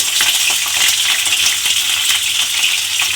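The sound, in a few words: pointed gourd peels dropped into hot oil, frying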